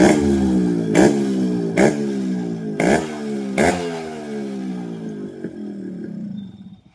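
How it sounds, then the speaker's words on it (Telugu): A 1999 Yamaha RX135 motorcycle's two-stroke engine runs nearby, with four sharp throttle blips at a steady rhythm that rise and fall, then the revs settle and fade out near the end, with no talking. "ఇంజన్ సౌండ్ కూడా మీరు విన్నారు ఒకసారి"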